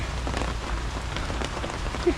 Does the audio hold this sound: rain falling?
yes